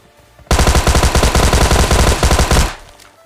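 AKM rifle fire in the PUBG Lite video game: a loud, sustained automatic burst of rapid shots lasting about two seconds, starting abruptly and cutting off, with no talk.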